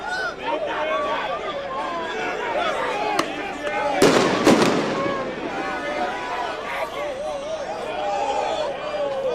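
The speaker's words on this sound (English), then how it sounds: "That sounds like fireworks." Sharp bangs and crackling bursts of fireworks go off around the middle of a street protest riot, with a crowd chattering and voices continuing throughout.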